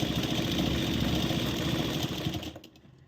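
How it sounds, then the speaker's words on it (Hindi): A sewing machine runs continuously while stitching a princess-cut blouse. The dense, fast mechanical whirr holds steady at close range, then stops abruptly near the end. "और फ्रेंड ऊपर तक हमें सिलाई लगानी है।"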